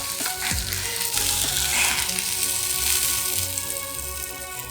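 A chicken breast sizzles on a George Foreman grill, giving a steady, close hiss of frying with fine crackles that runs unbroken for the whole stretch, and no one speaks over it.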